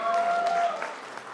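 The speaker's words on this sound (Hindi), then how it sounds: "एक बार और जोरदार तालियां." Audience applause in a conference hall as a comedian is welcomed on stage, a brief continuous burst of clapping with a voice speaking over it.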